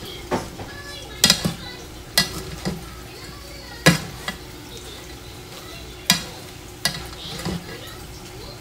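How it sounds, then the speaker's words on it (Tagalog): Small dried anchovies (dilis) frying in a pan, a low steady sizzle broken by sharp scraping stirs of a utensil against the pan roughly every second. "prito natin yung dilis na ihalo natin sa"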